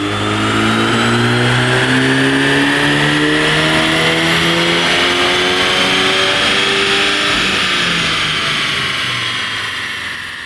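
A stock MK8 Volkswagen GTI engine revving hard through a fourth-gear dyno pull, a loud, close, sustained engine drone whose pitch climbs steadily for about ten seconds before easing off slightly at the end, with no voices.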